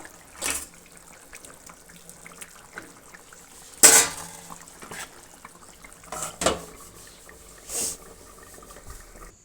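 A metal cooking pot is covered with its lid in one bright clang, with a few softer clinks of utensils and light kitchen knocks scattered around it in a quiet room.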